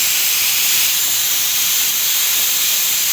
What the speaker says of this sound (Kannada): ನೋಡಿ ಕುಕ್ಕರ್ ಸಾಂಬಾರು ಇಟ್ಟಿದ್ದೀನಲ್ಲ